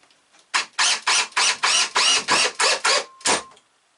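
Power Plus 20V cordless drill driver drives a screw in about ten short, even whirring bursts, loud and close, with a brief pause before the final burst.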